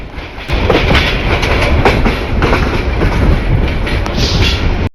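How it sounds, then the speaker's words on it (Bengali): The Mohanganj Express train thunders past close by through a station without stopping, wheels clattering rhythmically over rail joints in a loud, continuous roar that cuts off abruptly at the end. "মোহনগঞ্জ এক্সপ্রেস থ্রুপাস যাচ্ছে"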